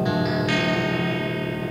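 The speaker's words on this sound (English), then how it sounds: "those weird bell tones to me sort of sound like something Wendy Carlos would do" A ring modulator gives off metallic, bell-like tones with dense clangorous overtones. Two or three quick struck notes step upward at the start, then a steady ringing tone sustains without any voice.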